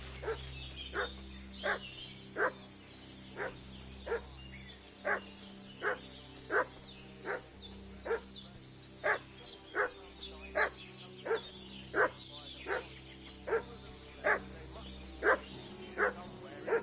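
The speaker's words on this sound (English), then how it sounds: "What's that dog making such a fuss about?" A dog barks steadily in Kingdom Come: Deliverance, sharp single barks repeating about once a second at moderate distance over a low ambient hum, with speech occasionally heard.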